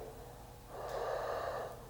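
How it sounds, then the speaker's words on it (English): A faint, airy exhale during a Yang-style 24-form tai chi movement. A single soft breath swells for about a second over a quiet room hum. "Breathing out."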